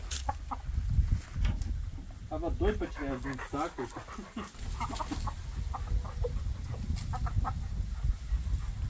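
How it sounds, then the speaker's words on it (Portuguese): Several chickens cluck and squawk close by, repeated short calls over a low rumbling background, with someone speaking briefly among them. "pronto. 7 galinhas."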